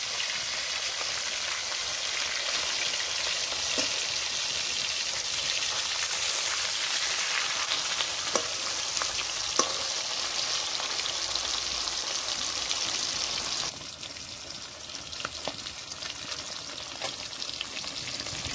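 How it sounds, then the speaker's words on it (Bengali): Rohu fish pieces fry in hot oil, giving a steady, close sizzling crackle with scattered pops that drops slightly in level partway through, with no talking. "মাছগুলো কড়া করে ভেজে নিয়েছি, এবার তুলে নেব।"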